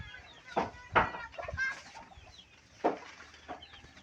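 Chickens and chicks cluck around a house in a few short bursts, some nearer and some farther off, over quiet outdoor background.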